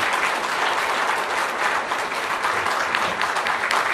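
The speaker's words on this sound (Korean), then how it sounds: "모두 함께 뜨거운 박수로 맞아주시기 바랍니다." Steady, dense applause from a large audience at a dinner reception for overseas Koreans in India, unbroken and fairly loud throughout, with no talk over it.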